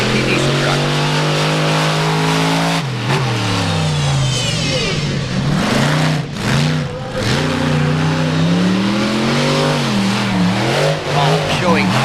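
XDP diesel truck racing at the 4-Wheel Jamboree Nationals in Indianapolis, its engine roaring loud and close with rising and falling revs, an announcer talking over it throughout.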